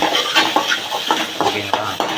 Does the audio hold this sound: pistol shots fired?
no